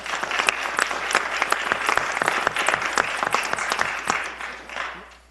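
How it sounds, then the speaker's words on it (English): An audience at a town council meeting claps for two people, steady dense applause that fades out near the end, with no voices over it. "one more round of applause for Brindley and Peter"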